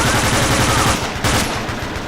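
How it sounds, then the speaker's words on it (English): Sustained machine gun suppressing fire in the video game Battlefield, a loud rapid rattling burst continuing nearly without pause, close and dominant. "Now let's continue our heavy suppressing fire."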